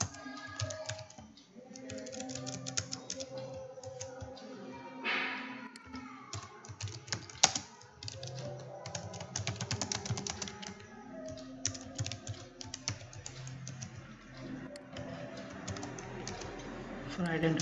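Rapid close clatter of a computer keyboard as Java code is typed, the keystrokes running in uneven bursts throughout with a voice speaking at moments.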